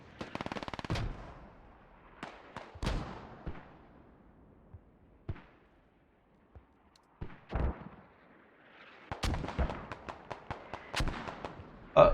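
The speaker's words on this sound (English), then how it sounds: "Good MG3 there from Toto." MG3 machine gun firing in the tactical shooter game Squad, bursts of rapid automatic shots scattered across the stretch with quiet gaps between them, loud and fairly close, along with other gunfire.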